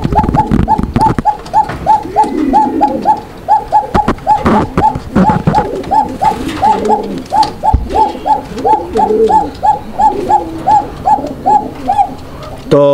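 Pigeons coo repeatedly in a rhythmic series of soft, throaty calls at a pigeon market, close and steady throughout, with some faint background bustle.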